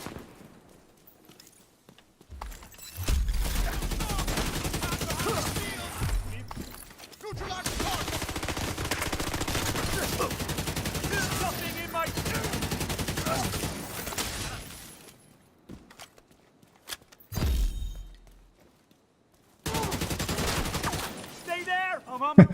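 Sustained turret gunfire rattles in The Division 2, long dense bursts of rapid shots broken by a few quieter gaps, with game effects layered underneath.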